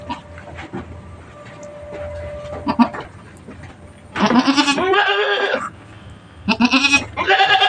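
A goat that has just given birth bleats loudly and close by in several drawn-out, wavering calls separated by quieter pauses with faint rustling, and no talking.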